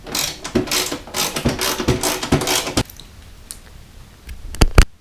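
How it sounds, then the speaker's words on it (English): A ratchet wrench clicks rapidly and steadily while bolting a cover back onto a Troy-Bilt Storm 5524 snowblower, then quiets to a few loud isolated clacks and knocks near the end. "Let's bolt this back up."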